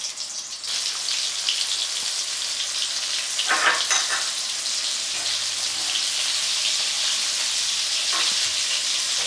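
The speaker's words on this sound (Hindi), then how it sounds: "हमारा ऑयल गर्म हो गया। अब हम इसमें बैंगन डालते हैं।" Eggplants fry in hot oil with a loud, steady hiss and crackle that fills the whole stretch, broken by a few brief bursts of stronger spattering and no voices.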